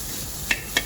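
Vegetables are stirred with salt in a frying pan, with two quick metallic clinks of a utensil against the pan over a faint background.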